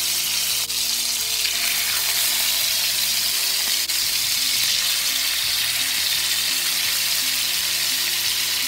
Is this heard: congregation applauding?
no